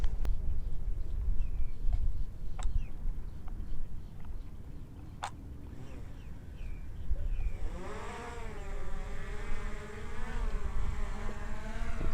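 A small drone on a homemade VR rig lifts off: after several seconds of quiet background knocks, its motors spin up into a close, steady insect-like buzzing whine with rising, wavering pitch.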